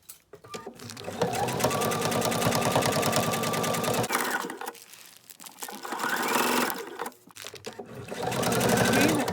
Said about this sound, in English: we're going to sew straight